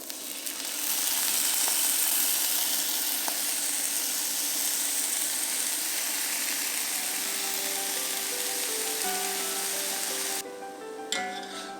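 Drained, overnight-soaked glutinous rice tips into a pan of fried shallots, giving a steady loud sizzle and hiss that runs for about ten seconds, ending in a few scraping stirs.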